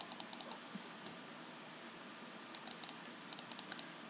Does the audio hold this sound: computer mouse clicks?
yes